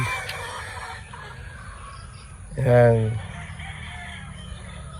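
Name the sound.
hens and a rooster clucking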